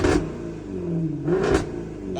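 A Jaguar F-Type R with 9,000 miles sits running while its engine is blipped twice, each sharp rev burst rising over a steady, throaty idle at close range.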